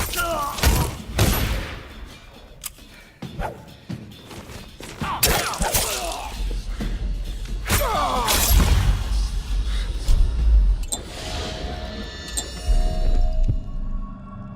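Bursts of gunfire and impacts in the game Dishonored: sharp shots and thuds early on, then heavier booms and clattering debris building toward the end, loud and close.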